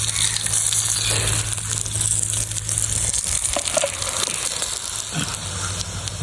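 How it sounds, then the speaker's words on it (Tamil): Kendai fish frying village style in hot oil with masala, a close and continuous sizzle and crackle with a few soft stirring scrapes and bumps partway through. "கெண்டை பொரியல் ரெடி ஆயிடுச்சு அது சூப்பராக ரெடி ஆயிடுச்சு நல்லா மசாலாலாம் நல்லா கருகரு நல்லாவே பொரிஞ்சிருச்சு பாருங்கள்"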